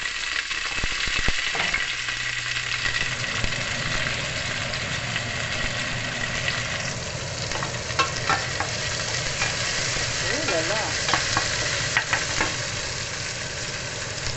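Garlic, ginger and onion fry in spattering avocado oil in a pan for salmon belly sinigang, a steady crackling sizzle that runs the whole time with stirring scrapes and clatter, while someone talks briefly.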